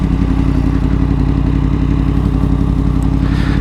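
A Yamaha MT10 motorcycle engine drones steadily and loudly on a test ride after an engine failure repair, a constant close-up throbbing roar with no talk over it.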